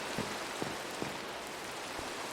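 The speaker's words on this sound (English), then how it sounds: "Ah, damn rain." Rain falls in the Minecraft SevTech modpack, a faint, steady hiss with a few soft, scattered taps, heard alone and quiet throughout.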